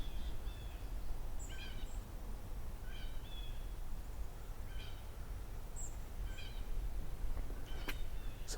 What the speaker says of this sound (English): I think that's white-throated sparrows.